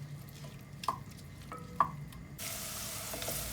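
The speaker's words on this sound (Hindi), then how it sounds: "प्याज को हमने सौते करना है।" Onions sautéing in a hot pan for masoor dal: a low, steady sizzle with a few sharp stirring clinks, then a brighter hiss near the end, with no talking.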